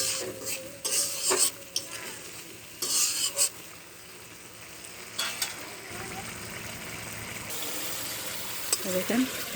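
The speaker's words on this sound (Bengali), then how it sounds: "দেখেন মশলাটা কষানো হয়ে গেছে আমার" Spice paste with dried chili powder frying and being stirred in hot oil in a pan for a spicy tilapia fish curry, a soft steady sizzle broken by scraping stir strokes and clinks against the pan.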